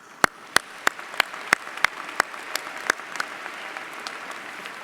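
Sparse clapping at a college commencement for special guests: a handful of distinct, evenly spaced claps stand out over a thin wash of softer applause, fading after a few seconds.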